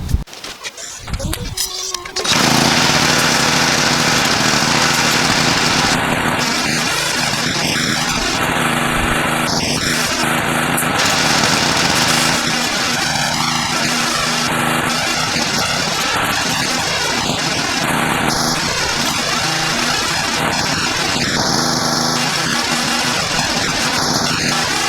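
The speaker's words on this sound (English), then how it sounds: "I'll just power wash it down and make it look pretty" A power washer sprays down a lawnmower, a loud steady hissing roar after a brief rough start, running continuously with occasional higher tonal blips.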